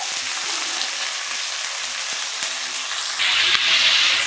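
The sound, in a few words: curry leaves crackling as they fry in hot oil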